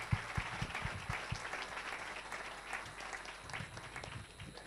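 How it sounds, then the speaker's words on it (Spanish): A television gala studio audience applauds steadily, dense clapping throughout with no voices standing out. "Un aplauso fuerte para Jorge García."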